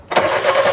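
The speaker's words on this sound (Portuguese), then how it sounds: "Ó, o carro não quer pegar, dá na partida." A Fiat Uno with a loss of power and misfiring engine turns over on the starter, a steady loud grinding churn that begins abruptly and runs on without catching.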